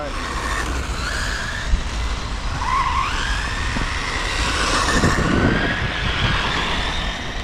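FTX Dodge Challenger radio-control car drifting on stock tyres, a steady whirring motor with thin squealing slides as it turns, heard under continuous voices of people talking nearby.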